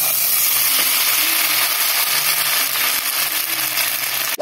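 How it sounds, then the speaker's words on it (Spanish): Dry elbow pasta is poured into melted butter in a pot. It makes a loud, steady sizzling hiss close by that runs throughout and ends in a short knock. "Vamos a derretir mantequilla para poner la sopa de codito."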